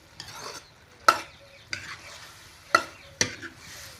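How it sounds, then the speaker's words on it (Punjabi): Spoon stirring through a pan of pointed gourd, carrot, potato and pea curry, with several sharp scraping strokes over a soft sizzle, close and fairly loud, with no talking. "ਆਪਾਂ ਜੀ ਸਾਰੀ ਸਬਜ਼ੀ ਨੂੰ ਚੰਗੀ ਤਰ੍ਹਾਂ ਮਿਕਸ ਕਰ ਦਾਂਗੇ"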